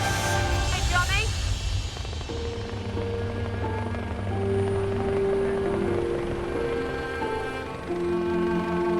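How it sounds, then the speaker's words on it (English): A police helicopter runs at a hospital helipad, its engine and rotor giving a steady loud drone with whining tones throughout, while people talk over it. "The air ambulance has to clear the helipad to make room for the police helicopter"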